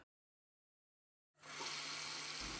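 Household faucet turned on after a moment of silence, cold water gushing in a steady, loud, broadband rush that continues to the end.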